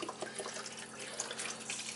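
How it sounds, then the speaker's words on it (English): Beef broth poured into a large roasting pan with a leg of lamb, a quiet continuous splashing and trickling of liquid with no talk. "So I'm just going to add the beef broth."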